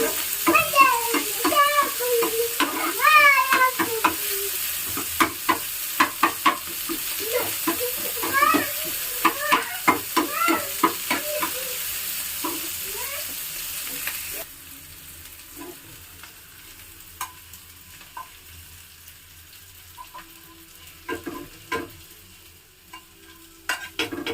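Oil frying in a pan for sambar gives a steady near hiss with stirring scrapes and clinks. High, wavering vocal-like calls rise over it through the first half, and the sizzle drops quieter midway.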